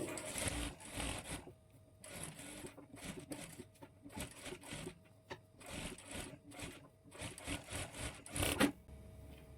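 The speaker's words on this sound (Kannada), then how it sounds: "ಸ್ಲೀವ್ಸ್ ಅಟ್ಯಾಚ್ ಮಾಡಿಕೊಂಡು ಇದ್ರ ಮೇಲೆ ಡಬಲ್ ಸ್ಟಿಚ್ ಹಾಕ್ಕೊಳ್ಬೇಕು" A sewing machine double-stitches a blouse sleeve seam, its needle rattling in several short bursts separated by brief pauses, close and fairly quiet with no talking.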